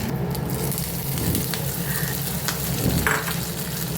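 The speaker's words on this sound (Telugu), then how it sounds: "ఎండుమిర్చి కరివేపాకు వేసేసి తాలింపు కొంచెం ఆడగానే చట్నీలో వేయడం" A tempering of cumin, mustard seeds, dried red chillies and curry leaves sizzles and crackles in hot oil, close and continuous, with brief stirring scrapes and a few sharp pops.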